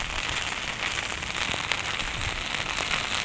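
Steady rain patters and hisses all around, with scattered sharper drops ticking through the constant wash, moderately loud and without voices.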